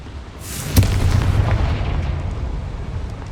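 The Confringo explosion spell from the Hogwarts Legacy video game goes off with a single sharp crack, followed by a loud, rumbling boom that fades slowly.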